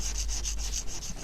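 Paint being scraped off a car windshield, a rapid, even run of about nine rasping scrape strokes, close and steady with no talk.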